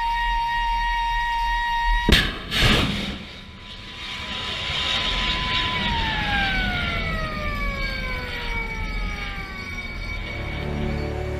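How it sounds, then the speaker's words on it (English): A steady warning siren tone on a warship is cut by a loud burst as a missile launches vertically, then the tone drops in pitch, winding down alongside a roaring rocket engine. "Moments before the missile is launched, a siren is sounded as a warning."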